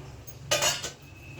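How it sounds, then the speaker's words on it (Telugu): Tomatoes and green chillies drop into a kitchen bowl for chutney, one short clattering knock of produce against the dish, close and alone in a quiet room. "టమాటాలు పచ్చిమిర్చి తీసుకుని ఒక గిన్నెలో వేసుకుంటున్నాను"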